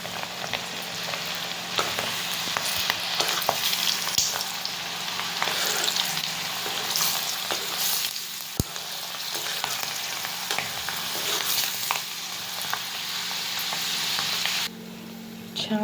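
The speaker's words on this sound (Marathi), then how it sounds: "मसाला लावून ठेवलेली भेंडी या ठिकाणी तळायची आहे" Spice-coated okra (bhindi) deep frying in hot oil, a dense continuous crackling sizzle with scattered pops and a few light utensil taps throughout.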